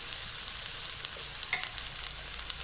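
Garlic, flour and salt fry in a pan with a steady, bright sizzle and crackle, a few sharper pops rising above the constant hiss; no one talks.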